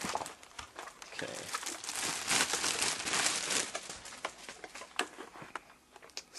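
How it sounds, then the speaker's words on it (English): A Kogan mechanical keyboard is lifted out of its packaging, giving a steady stretch of crinkling and rustling with scattered sharp crackles and handling knocks, close and fairly loud, with no talk. "I'll just take it out of packaging"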